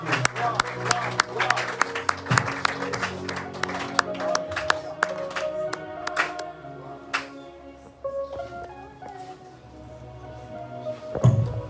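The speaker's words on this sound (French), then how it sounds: "Acclamons encore et encore pour notre Dieu." A church congregation claps and cheers during a Sunday service, with music and singing voices carrying through the rhythmic applause.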